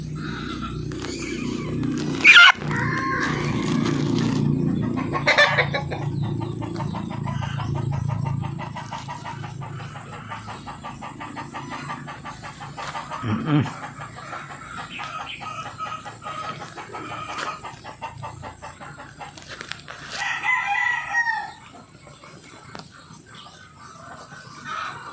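Chickens suffering from coryza clucking and a rooster crowing in a poultry yard, with repeated close clucks and a couple of louder crows over a steady background of farm noise.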